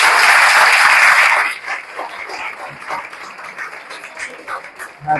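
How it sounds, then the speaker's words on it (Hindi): Students in a career guidance class clap loudly together, a strong burst of applause for over a second that quickly thins into softer scattered clapping and room noise. "थोड़ा जोरदार ताली बजता है ना तो अच्छा लगता है"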